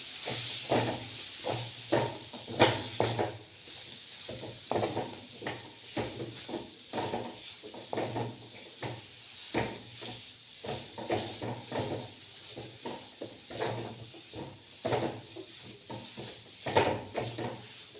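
Radish and gram-flour sabji, Kathiyawadi style, is stirred in a pan, with repeated soft scraping strokes in an irregular rhythm over a faint sizzle, close and fairly quiet.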